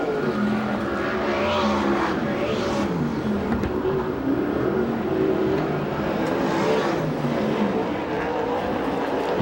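USAC/CRA sprint cars racing on the oval at Perris, California, engines roaring loudly and continuously as cars sweep past in waves, with no voices.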